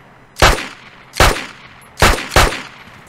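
Four sharp pistol gunshots in a video game ring out loud and close, spaced unevenly with the last two fired in quick succession, each with a brief decaying tail.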